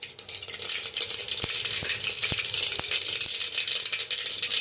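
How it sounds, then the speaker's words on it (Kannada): Half a tablespoon of mustard seeds splutter and crackle in hot oil inside a pressure cooker, a dense, steady sizzle with scattered sharper pops rising from it. "ಇವಾಗ ನಾನು ಒಂದು ಅರ್ಧ ಟೇಬಲ್ ಸ್ಪೂನಷ್ಟು ಸಾಸಿವೆ ಹಾಕಿದ್ದೀನಿ"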